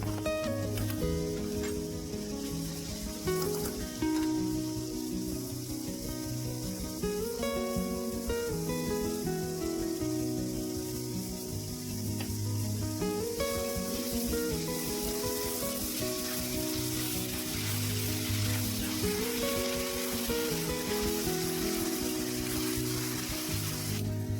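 Onion and tomato with salt sautéing in a pan for a Malvani-style homemade prawn biryani, a continuous loud sizzle with frequent stirring scrapes and clinks of a spoon, no voices.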